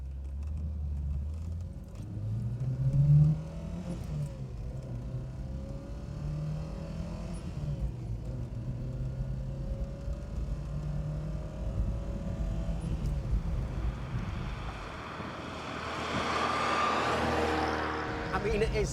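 A light Lancia Beta saloon with a 90-horsepower 1.4 engine accelerates, a steady droning engine note rising through the gears from inside the car, with some talk over it.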